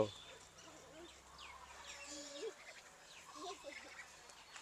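Farm ducks quack and call at a distance, a scattered flock heard faintly over low outdoor background with soft voices nearby.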